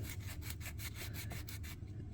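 A file rasps in quick rhythmic strokes across a plastic 1/16 Panzer III model tank wheel, knocking off sprue nubs; close, steady scraping, about eight strokes without talk.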